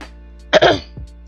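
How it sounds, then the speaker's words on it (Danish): A single person's cough: a short, harsh rough burst, a second smaller hack, then a brief low clearing of the throat, close and loud against a quiet background. "Undskyld, jeg hoster."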